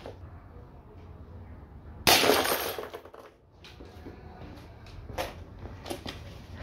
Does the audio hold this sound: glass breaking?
yes